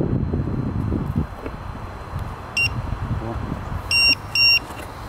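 Sharp electronic beeps from the buzzer on a homemade radio-controlled boat, two short tones then two longer ones close together, heard outdoors over wind noise and a low rumble.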